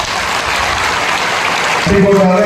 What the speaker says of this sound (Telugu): ఒక నిమిషం పాటు ఆగకుండా అందరూ చప్పట్లు కొట్టాలి కంటిన్యూస్